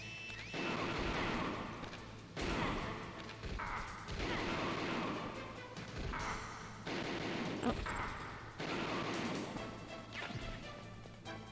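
Repeated bursts of gunfire in Metal Gear Solid, loud crashing volleys lasting a second or two each, separated by brief pauses, dense and close.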